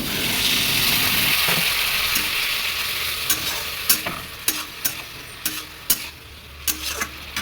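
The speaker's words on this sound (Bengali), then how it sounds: "সোয়াবিন আর আলু আর এই গুঁড়ো মশলাগুলো দিয়ে খুব সুন্দর করে অল্প জলের সাহায্যে কষিয়ে নিতে হবে" Soybean chunks and potato with ground spices stir-fried with a little water, a hissing sizzle at first that settles into intermittent clinking stirs and scrapes near the pan.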